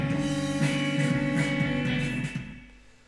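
Horn section from Logic software instruments played with growl articulation, a sustained brassy chord with a rough, buzzing rasp that holds steady for about two seconds and then fades out, heard alone with no talking.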